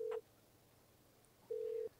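A phone rings in the video game Go-Go Town as two faint electronic tones, a short beep and then a longer steady one after a pause, with no talking.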